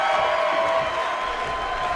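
A wrestling arena crowd cheers and roars in a steady, dense wash during a match, loud and continuous with no break.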